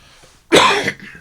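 A single sharp cough bursts out close to the microphone after a quiet moment, then fades into a brief rasp.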